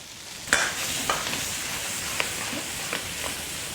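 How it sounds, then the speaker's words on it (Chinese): Garlic, dried chilies, Sichuan peppercorns and pickled chilies stir-fry in oil with doubanjiang over low heat, giving a steady sizzle punctuated by a few sharp scraping clacks of the spatula against the wok. "再把准备的蒜和干海椒、干花椒、泡椒放进去，用小火一起炒出香味来。"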